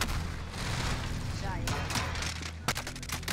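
Gunfire in Call of Duty Warzone: sharp shots and bursts crack out repeatedly, some close and some distant, over a rumbling battlefield background, with someone talking in between.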